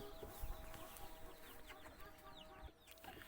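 Chickens and chicks in a coop, with soft clucks and thin peeping calls scattered over a faint, hissy background, quiet and somewhat distant, with no talking.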